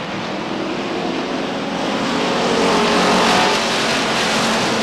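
Stock race cars at Beech Ridge Motor Speedway in 1991 roar in a continuous, dense engine drone as the pack races around the track, loud and steady throughout.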